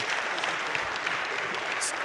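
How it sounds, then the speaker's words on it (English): An audience at a Nation of Islam lecture applauds warmly, producing dense, even clapping that holds steady for the whole short stretch. "Let's give our brother a warm round of applause."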